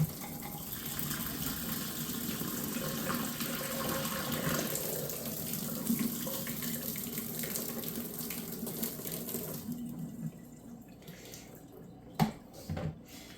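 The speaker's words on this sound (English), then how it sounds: "we're gonna pour this really, really hot water down the sink" Very hot water is poured from a coffee carafe into a sink, a steady close gushing splash that runs for about ten seconds, then stops, leaving a quiet room with a brief clunk.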